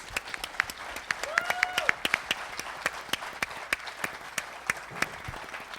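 Scattered applause rises for honored drivers at a driver appreciation event, individual hand claps standing out sharply and sparse against a quiet room, with a brief tonal sweep partway through.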